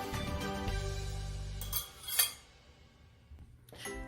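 Dry spices for mango pickle being mixed with a utensil in a bowl, a soft scraping rub followed by a couple of light clinks and a faint tail of stirring, quiet and close.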